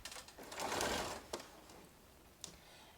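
A sewing machine runs in a short burst of stitching as it bastes layers of a jacket together, followed by a couple of brief clicks and a quieter pause; moderately close, with no talking.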